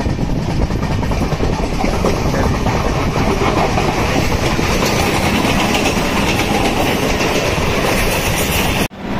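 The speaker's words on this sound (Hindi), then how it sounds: "लोकल ट्रेन जा रही है" A Mumbai local passenger train rumbles past up close near Jogeshwari on the Western line, with a loud, steady roar and rattling clatter of wheels that cuts off abruptly near the end.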